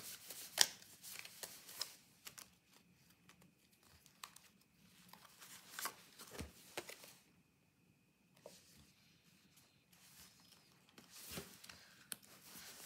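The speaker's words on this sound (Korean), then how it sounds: "그래서 마지막으로 천사의 오라클 카드도 같이 뽑아보도록 할게요." Angel oracle cards being shuffled and drawn make soft, close rustles, flicks and papery slides in quiet, irregular bursts, with a few sharper snaps between hushed pauses.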